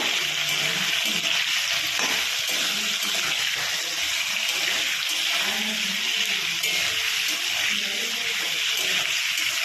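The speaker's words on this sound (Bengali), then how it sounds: "আলুগুলোকে এবার লাল লাল করে ভেজে নেব।" Potatoes seasoned with chilli, salt and turmeric fry in oil with a loud, even hiss that runs unbroken throughout, close up and with no voices.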